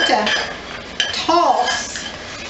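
Pumpkin seeds tossed in a pan with brown sugar, white sugar, pumpkin pie spice and butter, heard as loud metallic clanks and scraping of utensil against pan in a few bursts.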